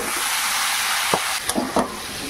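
Drained cabbage hits hot spiced oil in a pan and fries with a steady, loud, close sizzle that runs throughout, with a few brief stirring clinks partway through.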